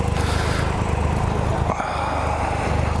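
A 2016 Yamaha XSR900 motorcycle engine runs loud and close with a steady rough drone, mixed with wind rush as the bike gets underway.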